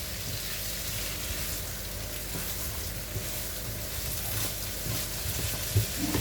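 Washed, dried uncooked rice is stir-fried in a pan with oil, giving a faint, steady sizzle and soft scraping from stirring throughout, with no voice heard.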